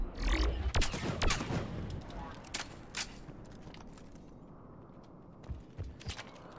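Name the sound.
gunfire from the video game Mass Effect 3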